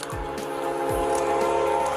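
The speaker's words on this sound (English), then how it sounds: "an oncoming train is sounding its horn" A train horn from an oncoming train sounds continuously and loudly with steady harmonic tones, joined by rumbling and brief low thumps.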